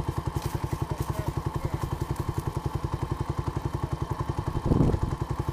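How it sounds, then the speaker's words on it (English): A dirt bike engine with water suspected in the carburetor idles unevenly close by, a rapid lumpy chugging pulse that stumbles, with a brief louder blip near the end. "It's not idling well now because it's probably got water or something in the carburetor."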